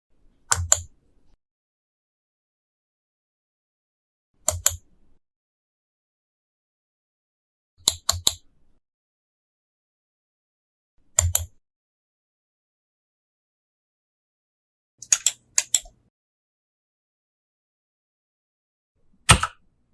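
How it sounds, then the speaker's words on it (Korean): Computer mouse clicks as isolated sound effects, six crisp double clicks spaced evenly about three to four seconds apart over total silence. "마우스 클릭 효과음"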